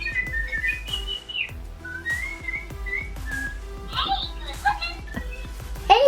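A Little Live Pets light-up toy songbird gives a run of bright whistled chirps and tweets, repeating phrases in a steady pattern over a low rhythmic backing, with a voice talking softly underneath.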